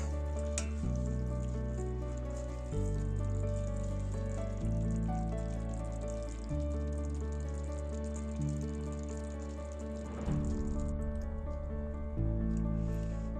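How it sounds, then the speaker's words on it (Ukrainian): Steady bubbling and sizzling of chicken pieces simmering in a pot for pilaf, close and continuous, with a sustained tonal hum underneath and no talking. "Ось так кипить наша курочка."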